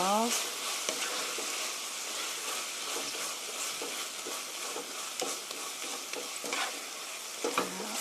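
Chicken tteokbokki with vegetables sizzles steadily in a pan as it is stirred, with scraping clatter of the utensil rising out of the frying hiss and a few sharper knocks near the end.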